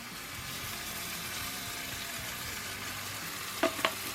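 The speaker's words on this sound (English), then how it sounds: "Stir up our steak Diane sauce." Steak Diane cream sauce with parsley simmers and hisses steadily in a hot pan, a low continuous sizzle, then near the end two sharp scraping knocks as the sauce is stirred.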